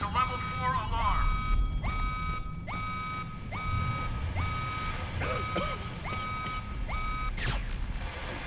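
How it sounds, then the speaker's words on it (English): A level 4 alarm in the Xbox game Splinter Cell Double Agent: a string of about eight evenly spaced electronic beeps, each opening with a quick rising chirp, over a low rumbling backdrop with a faint voice. "This is a level 4 alarm."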